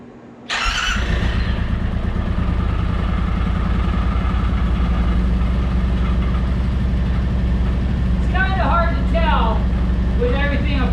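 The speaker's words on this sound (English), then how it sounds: "The engine seems to be running pretty smooth." A Yamaha Wolverine X4 side-by-side, repaired after flood damage, starts and settles into a steady, smooth idle with a loud, continuous low engine drone close by, while someone talks briefly over it near the end.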